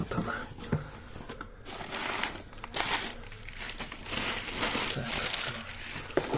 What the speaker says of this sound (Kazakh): Уплотнитель ретінде тұрған қағаздар.